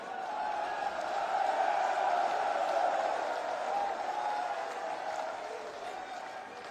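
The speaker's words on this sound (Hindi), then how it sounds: "हम सभी खड़े होकर तालियां बजाकर स्वागत करेंगे" Large audience at an outdoor election rally in Karana, Uttar Pradesh stands and applauds to welcome the chief minister, a dense, steady roar of clapping and crowd noise heard from a distance.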